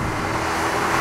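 A Porsche Cayenne Turbo SUV taking a sweeping corner, a steady engine and road hum held at an even level throughout the brief stretch.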